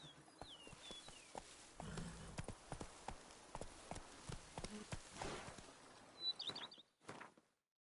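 Horse hooves clip-clopping at a slow walk, with a steady run of distinct, fairly close knocks and a few bird chirps in the background before the hooves fade out.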